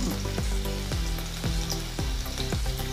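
Garlic and green chillies sizzle steadily in hot oil for a fenugreek leaf thoran, with a spatula scraping the pan in a regular rhythm, close and fairly quiet, no talking.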